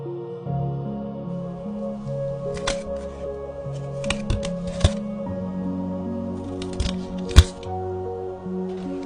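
Tomb Raider trading cards are handled and shuffled, with soft rustling and a few sharp snapping taps against steady background music, close and fairly quiet.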